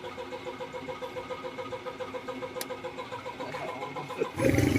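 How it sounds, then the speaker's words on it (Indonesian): A Viar three-wheeler motorbike's small engine starts and idles with a rapid, steady putter, then revs up suddenly near the end. "Ya ini sudah hidup ya lur, langsung jreng sekali starter."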